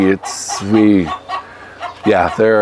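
Chickens on a farm cluck and squawk up close in a few loud bursts, with brief gaps between calls.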